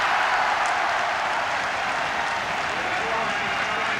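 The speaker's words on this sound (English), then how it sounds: "the Finnish supporters have something to cheer with 9 minutes remaining" Finnish football supporters in a stadium crowd cheering a goal during a 1982 friendly against England, a steady, dense roar of distant voices that stays loud and even throughout.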